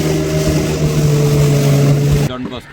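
A loud, steady motorboat engine drones close by during a boat race at sea off Palaly, with a constant hum, then cuts away abruptly near the end.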